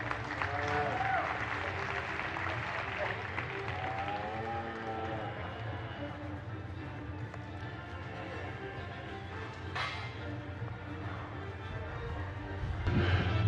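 An audience at a junior livestock show, applauding in a sustained wash of clapping under and around a voice on a public address system, with the applause swelling again near the end.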